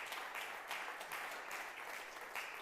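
A church congregation applauds steadily, a dense, soft wash of clapping lasting the whole stretch, fairly distant and without voices.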